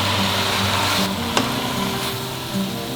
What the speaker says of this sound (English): Now we add the broth so that the greens will cook a little bit faster.